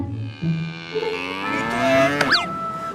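A cow lets out one long, drawn-out moo that rises and bends in pitch, loud and close, with no talk over it.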